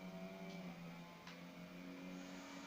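A car engine in a racing video game holds a steady, faint hum with a sustained tonal drone, rising slightly under acceleration and continuing throughout without a break.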